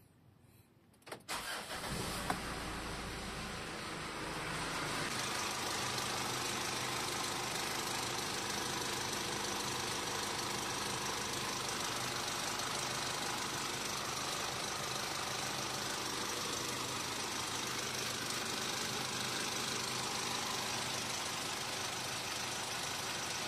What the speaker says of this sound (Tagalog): i-on na natin yung engine natin